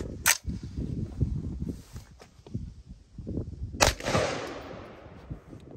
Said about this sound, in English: let's go ahead and shoot one shot at it and see what happens